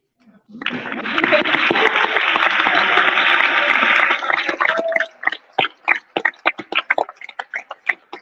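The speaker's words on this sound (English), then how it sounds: "I'd love to give every one of you a huge round of applause" An indoor audience at an Eagle Scout court of honor applauds the parents, a dense burst of clapping lasting several seconds before thinning into scattered last claps.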